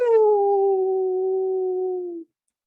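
A person's voice imitates a wolf howl at a FIRST Canada Cup robotics competition: a single clear, sustained tone that sinks slightly in pitch, held loud for about two seconds, then cut off abruptly.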